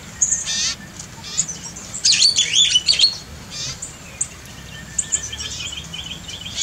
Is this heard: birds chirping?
yes